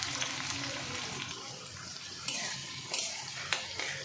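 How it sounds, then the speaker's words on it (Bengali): Onions hit hot oil in a pan for a mutton kosha dish and fry with a soft, steady sizzle, with a few sharper clinks and stirring scrapes on top. "তেলটা যেহেতু আমার গরম, তো আমি পেঁয়াজগুলো দিয়ে দিচ্ছি।"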